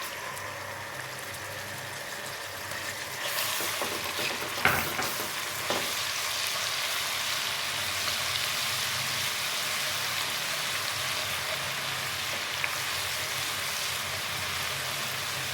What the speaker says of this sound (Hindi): ब्राउन होने तक मैं इसे फ्राई करूँगी, ताकि ये ब्राउन हो जाए।